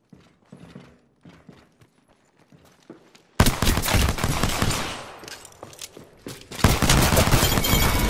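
Gunfire in the video game Apex Legends erupts after a quiet stretch of faint clicks and taps, becoming a loud, dense burst of rapid shots that continues with a brief dip before resuming.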